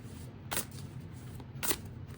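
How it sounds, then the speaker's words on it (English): A deck of tarot cards is shuffled in two short, crisp riffling bursts about a second apart over a quiet room background. "One more shuffle, group 5."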